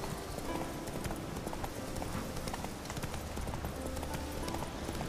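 Roach the horse gallops through The Witcher 3 with steady, close clip-clop hoofbeats, continuous and loud over faint ambient game sound.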